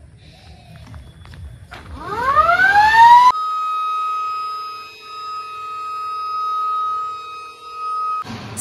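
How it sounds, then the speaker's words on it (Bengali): A school breakfast siren at a Jawahar Navodaya Vidyalaya winds up in a loud rising wail, then holds a steady, slightly wavering tone for several seconds before cutting off. "সাইরেন বাজার সাথে সাথে সবাই চলে এসেছি আমরা মেসে"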